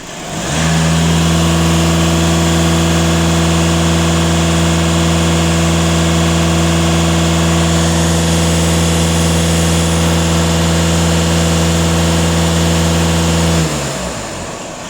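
A warmed-up Skoda 2.0 TDI diesel engine is held at a steady 2500 rpm, giving a loud, constant close-range drone that rises at the start and drops away near the end.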